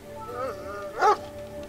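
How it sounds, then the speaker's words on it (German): A dog in the adventure game Lost Horizon gives a single short yelping bark near the end, preceded by a faint whine, close and moderately loud over a quiet low hum. "Der Hund hält den zitternden Lichtpunkt wohl für irgendein Insekt."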